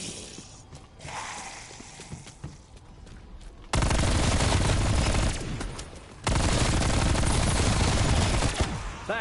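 A wonder weapon fires in Call of Duty: Cold War zombies, loud sustained bursts of heavy gunfire and mechanical clatter that cut in and stop abruptly, following quieter game ambience.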